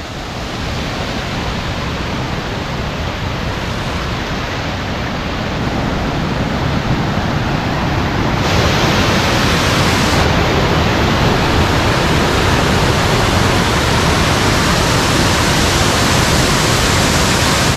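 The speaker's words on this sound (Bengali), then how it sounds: "তিরথগড় ফলসটা ওইদিকে উপর থেকে পড়ছে।" Tirathgarh waterfall near Jagdalpur roars as water falls from above, a loud, dense, continuous rushing hiss that grows slightly fuller midway and continues without pause.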